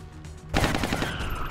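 Gunfire in the video game XCOM: Long War: after a brief quiet lead-in, a loud, sustained burst of rapid automatic shots rings out close and dense to the end.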